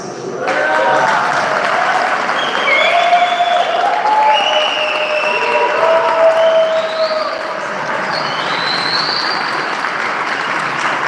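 A church congregation gives sustained applause during a Sunday communion service. The clapping from the crowd is dense and steady and fills the room for about ten seconds, with a few scattered voices and faint cheers mixed in.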